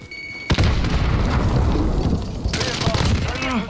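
A thrown grenade goes off in Modern Warfare with a sudden loud boom, then sustained rumbling gunfire and battle noise, with a voice faintly calling out near the end.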